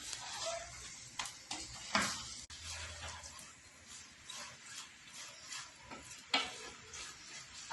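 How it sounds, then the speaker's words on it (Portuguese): A spoon stirs chicken in a pan for a low-carb chicken pie, with close, soft sizzling and irregular scraping and clinking strokes against the pan, quiet and without talk. "Dá um remeleixo na panela de novo, com a colher"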